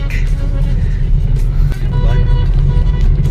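A car travels in city traffic, a loud, steady low engine and road rumble heard from inside the cabin while someone talks.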